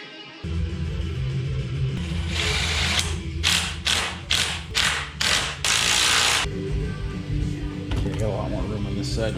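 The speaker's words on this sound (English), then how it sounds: "I'm just gonna bolt the rubber parts onto the frame on each side." Rubber motor mounts being bolted onto an S10 truck frame for a boat engine swap, heard as a run of short, loud ratcheting bursts in the middle, with steady low hum and talk around them.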